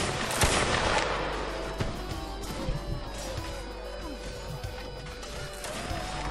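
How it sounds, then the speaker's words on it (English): A musket fires in Mount and Blade: Full Invasion 2 as gunfire and clashes echo across a busy battlefield. Sharp cracks stand out near the start, and more scattered shots and impacts follow through the din. "My protest is I will fire a musket instead of swinging a sword."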